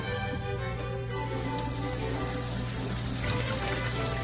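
Tap water runs steadily from a faucet during handwashing, a continuous close hiss with a low hum beneath, with no voices.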